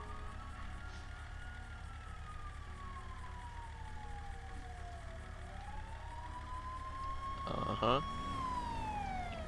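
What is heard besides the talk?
emergency vehicle sirens in a video game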